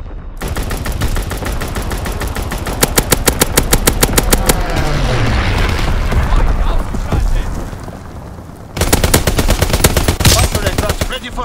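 Call of Duty WWII multiplayer match with a fighter aircraft strafing run: long, loud bursts of rapid machine-gun fire, a rumbling roar of impacts and explosions in between, then another sustained burst, with radio-style voice callouts mixed underneath.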